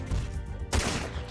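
A mech sniper rifle shot in the Front Mission 4 strategy game: one sharp, loud blast partway through, with a broad burst that rings on over a steady low background rumble.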